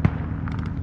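A single muffled mortar round fires in the video game Squad on Fools Road, giving a short low thump followed by a fading rumble, moderately loud with no talking.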